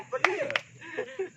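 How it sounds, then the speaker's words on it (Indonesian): A couple of sharp hand claps, close and fairly quiet, rising briefly over a person talking. "Tepuk tangan."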